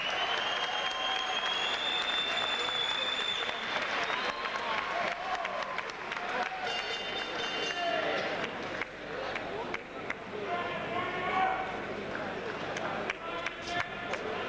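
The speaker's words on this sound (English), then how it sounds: "How about a big round of applause for Daniel Radecker and Nick Lantouris" A boxing crowd applauds in a dense, sustained wash of clapping with some cheering after the bout between Nick Lantouris and Daniel Radecker, loud and continuous throughout.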